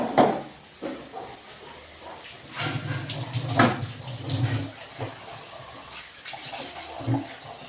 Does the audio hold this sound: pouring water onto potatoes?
yes